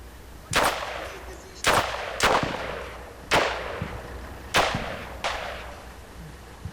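Five sharp G36 rifle shots in the video game Combat Mission Shock Force, spaced at irregular intervals of roughly a second, each a loud crack with a short decaying tail over steady background noise.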